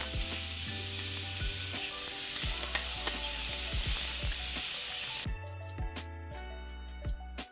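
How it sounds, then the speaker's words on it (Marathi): Onion sizzles steadily in a hot pan for Marathi kurdai bhaji, with repeated scraping and clinking of a spatula stirring, the sizzle cutting out near the end leaving only sparse stirring knocks. "कांदा पूर्ण लाल होईपर्यंत परतायचा"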